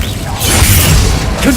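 A Confringo spell blast in Hogwarts Legacy, a heavy whooshing boom with crackling mechanical texture, loud and close, mixed with voices.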